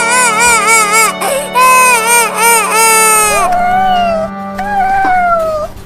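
A kitten's high, wavering cries repeat continuously, plaintive and insistent, with a steady low hum in the background, in a cartoon.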